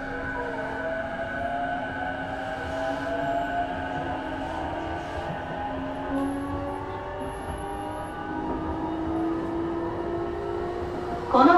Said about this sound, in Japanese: この電車は京葉線快速東京行きです